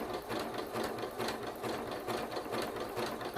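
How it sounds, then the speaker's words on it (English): Sewing machine stitching fabric for a handmade slipper, a steady fast mechanical chatter with regular needle strokes, close and continuous without any talk. "Now we're going to sew in."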